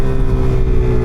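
A Suzuki DRZ4SM motorcycle engine roars loud and close during a wheelie with traction control off, a short sustained high-revving burst.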